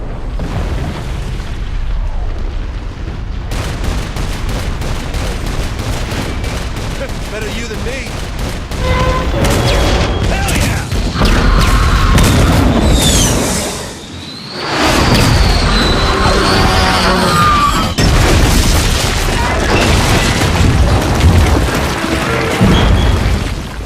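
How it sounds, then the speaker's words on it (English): Saints Row IV combat roars with continuous booming explosions and gunfire, loud and dense throughout, with a brief lull midway and voices shouting over the chaos. "I'll shoot down every last one of you! What? Blew it up!"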